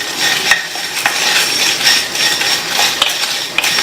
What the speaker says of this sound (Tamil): மறுபடியும் எல்லாத்தையும் நல்லா வறுத்துருங்க